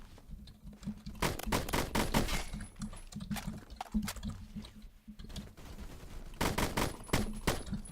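AN-94 rifle fire in the Roblox game Phantom Forces: repeated loud bursts of rapid shots in short clusters, with quieter gaps between volleys.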